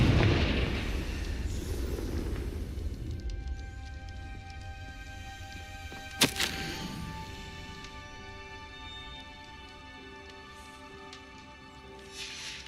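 A Confringo fire-blast spell in Hogwarts Legacy erupts as a loud rumbling burst, its roar fading over several seconds, followed by a sharp crack midway and softer game tones.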